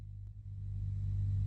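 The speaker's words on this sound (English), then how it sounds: "You can hear that beautiful G90 starting up there." A GE90 turbofan on a PMDG 777-300ER starts up in Microsoft Flight Simulator, giving a deep, steady rumble that swells and grows louder over a second and a half, with no talk.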